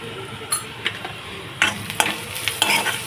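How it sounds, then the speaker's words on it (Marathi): Onion and turmeric sizzle in a pan while a utensil stirs and scrapes against it in several short strokes, close and clear. "हलवते"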